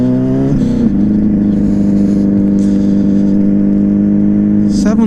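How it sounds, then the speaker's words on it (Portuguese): A loud, close motorcycle engine with a strange noise drones steadily, its pitch shifting briefly near the start and again at the end. "Que essa moto tá berrando estranho."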